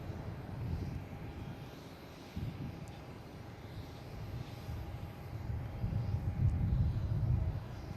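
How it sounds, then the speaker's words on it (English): An American Airlines Embraer E145 regional jet arriving at Boston Logan from Syracuse, a moderate, distant engine rumble that swells gradually toward the end, with no talking. "We had American Airlines, there it is. Coming in from Syracuse, the E145"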